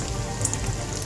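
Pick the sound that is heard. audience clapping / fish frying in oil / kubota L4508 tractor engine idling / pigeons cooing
fish frying in oil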